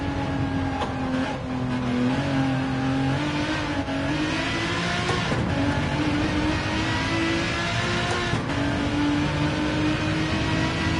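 A race car engine in the video game Gran Turismo 7 revs steadily at close range, its pitch rising and falling in continuous rising whines with brief gear-shift dips.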